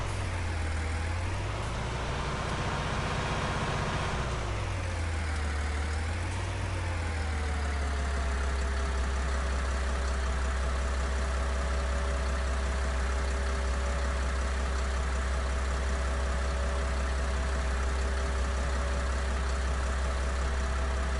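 A small tractor engine in Farming Simulator 19 runs through a couple of revs that rise and fall, then settles into a steady, even low idle hum that continues unchanged.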